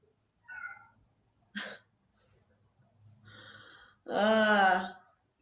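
A pet cat gives a few short, strained meows and a sharp gasping breath, ending in one long, loud, drawn-out yowl, all close by with no talking.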